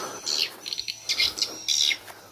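Swiftlet calls from an SP Tombak Raja lure inside a swiftlet house: three bursts of high, buzzy chirping, fairly close and moderately loud, with a faint steady hum underneath.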